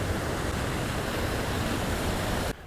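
Water rushes down from a small dam opened during a floating duck island build, a loud, close, unbroken roar that drops sharply in the final moment.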